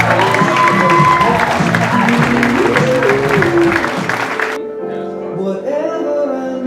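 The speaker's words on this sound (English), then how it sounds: "Round of applause for the bride and groom" Wedding guests applauding the bride and groom: a roomful of clapping and some cheering over music, fading after about four seconds while music carries on and voices talk underneath.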